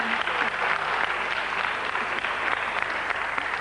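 A television talk-show studio audience claps in a steady, even burst of applause that fills the whole moment, with no speech on top.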